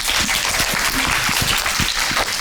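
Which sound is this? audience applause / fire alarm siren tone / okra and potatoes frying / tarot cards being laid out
audience applause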